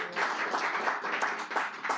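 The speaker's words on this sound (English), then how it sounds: "Round of applause, please." An audience at a book and community celebration gives a short round of applause, steady mid-level clapping from many hands filling the moment without any talk.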